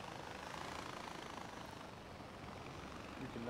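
A video game helicopter hovers with a steady, dense rotor and engine roar that fills the whole stretch at an even, fairly loud level, with a faint voice creeping in at the very end.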